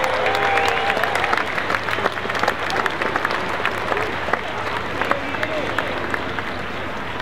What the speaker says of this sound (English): I'll let the crowd give you a good cheer to say goodbye.